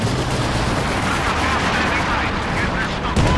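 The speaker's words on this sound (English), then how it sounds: "I've got the artillery on counter bash right now" Artillery and gunfire in the Company of Heroes 2 game, a loud, dense, continuous barrage of shots and booms, with voices talking over the battle.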